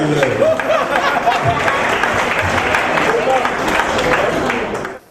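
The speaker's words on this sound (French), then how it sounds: "Je vous demande encore d'applaudir chaleureusement Kaël." An audience claps warmly for a presenter, a thick, continuous wash of applause with some voices mixed in, holding steady before cutting off abruptly at the end.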